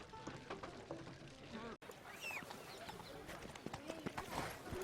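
Roach the horse's hooves gallop in The Witcher 3, a steady rapid clip-clop beat up close, running continuously through a brief dropout amid game ambience.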